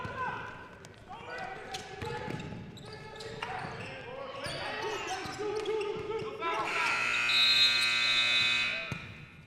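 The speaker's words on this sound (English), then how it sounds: "That'll be after the buzzer." A buzzer sounds at a high school basketball championship game in a gym, a loud sustained electronic tone near the end of the clip following sneaker squeaks and ball bounces, with a commentator talking throughout.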